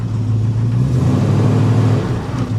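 A 1973 Plymouth Scamp flood car's engine drones steadily while driving, a loud, close, low mid-range hum with road rumble and no notable revving changes.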